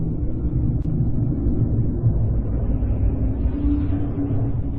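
Sonification of Mars, a rough, wind-like broadband rumble that rolls on steadily throughout, moderately loud and unbroken, with no talking.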